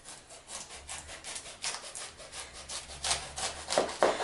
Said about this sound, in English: I'm just going to start slicing this into slices that are about, 3/4 of an inch to an inch thick